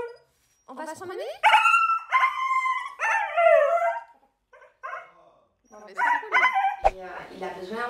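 A husky dog howls and yowls in long, wavering, voice-like phrases broken by short barks and yips, close and loud with brief silent gaps.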